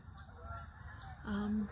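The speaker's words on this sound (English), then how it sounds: "Here come more geese." A goose gives a single short honk outdoors, moderately loud over steady background noise.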